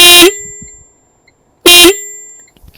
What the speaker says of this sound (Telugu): ఒకసారి హార్న్ కొడదాము ఎట్లా వస్తుంది